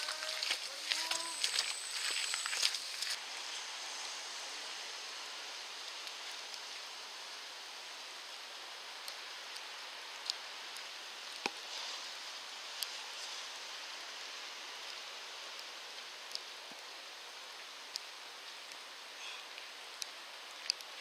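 Steady rain hisses softly throughout during the SaintéLyon trail race, with occasional light taps and drips, faint and continuous with no voices.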